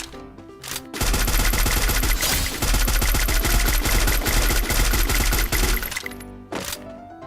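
A shooting video game battle erupts in loud rapid automatic gunfire, a sustained burst of close shots lasting several seconds, bracketed by a few single reports before and after.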